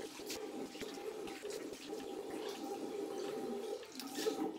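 Soft running water splashes and trickles as a makeup brush is rinsed under a tap, quiet and close, with no talking.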